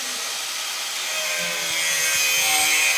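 A plastic pipe for a toilet closet is cut with a saw, giving a brief, continuous, close rasping sound that grows slightly louder.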